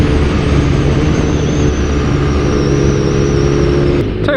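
BMW R nineT motorcycle with its stock exhaust, ridden at low RPM in fourth gear: a loud, close, steady engine drone that holds its pitch throughout, with no one talking.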